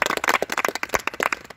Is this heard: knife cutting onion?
no